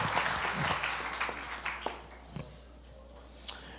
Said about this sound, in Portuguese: Vamos recebê-lo dando um aplauso ao Senhor